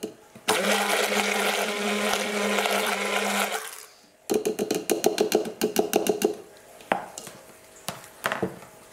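A blender whirs loudly for about three seconds, liquefying aloe vera gel with tea tree, then stops. A run of short rapid pulses and clattering bursts follows.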